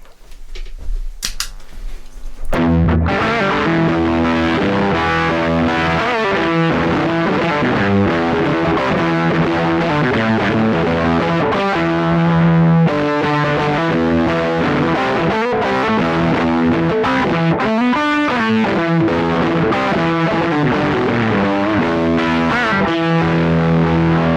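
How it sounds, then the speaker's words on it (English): A heavily fuzzed electric guitar through a Tone Bender fuzz pedal with three germanium transistors plays chords and riffs, thick and saturated with gritty distortion, after a brief quiet moment at the start. "and it sounds a bit like this. So this is the Tone Bender."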